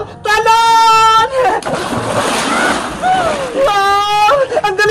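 Someone dives into water with a broad, rushing splash lasting a couple of seconds, loud and close, between bursts of excited high-pitched voices before and after.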